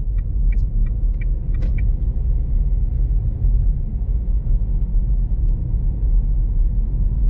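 A car cruises a freshly asphalted bypass road near Altynemel village in Kerbulak district, Kazakhstan, with a loud, steady low rumble of engine and tires from inside the cabin, plus a few faint early clicks.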